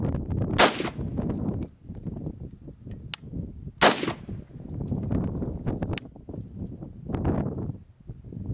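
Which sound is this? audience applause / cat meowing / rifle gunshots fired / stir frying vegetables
rifle gunshots fired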